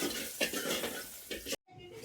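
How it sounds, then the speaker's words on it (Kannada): Chickpea sambar being cooked in a pot, with a continuous sizzle and the scrape of stirring running steadily close by, cutting out abruptly near the end. "ಕಡಲೆಕಾಳು ಸಾಂಬಾರು ರೆಡಿ ಮಾಡ್ತಾರೆ"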